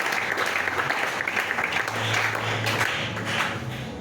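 A church congregation bursts into sustained applause during an evening Holy Thursday communion service, a dense wash of many hands clapping that carries on for several seconds with a few faint voices underneath.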